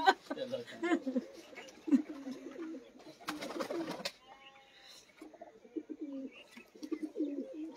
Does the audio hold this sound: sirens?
no